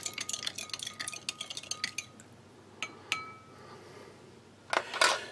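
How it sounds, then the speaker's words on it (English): A metal spoon clinks rapidly against a cup while stirring powders into a drink from a French emergency ration, with a run of close, bright taps that pause and then return in a final burst. "we'll just bring in US spoon, good stir, good mix, get those powders well dissolved"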